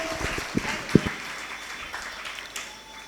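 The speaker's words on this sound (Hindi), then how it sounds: "इसीलिए इनके सम्मान में जोरदार तालियां बजाइए आप सभी" Audience clapping at a Jain monk's religious question-and-answer gathering in Lalitpur, a dense steady patter of many hands with a few sharper claps standing out near the start, filling the short stretch at moderate level.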